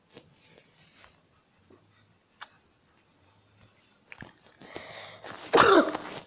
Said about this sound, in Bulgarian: Извиняйте, кихнах.